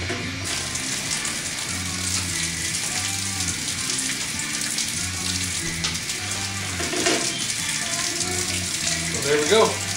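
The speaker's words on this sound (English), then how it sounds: "I'm going to turn on the water." Tap water runs steadily into a sink while home brewing, a continuous broadband rush that holds evenly for the whole stretch, mixed with a low rhythmic hum and a brief sharper splash near the end.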